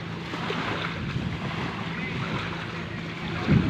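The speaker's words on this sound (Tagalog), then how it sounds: "Sarap parang simoy ng hangin dito sa tabing dagat." A steady sea breeze rushes past by the seashore as waves wash in continuously, with wind buffeting the microphone and a slight swell of surf near the end.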